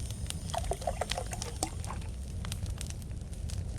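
Half a liter of water poured in the Mist Survival video game: a steady splashing pour runs for several seconds, with a crackling fire in the background.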